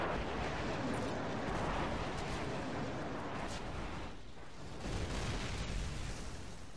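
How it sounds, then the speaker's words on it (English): A martyrdom grenade goes off in Call of Duty 4 amid a battle, with a loud, rumbling blast that washes into continuous noisy combat din, dipping briefly before swelling again. "he just died by a martyrdom grenade"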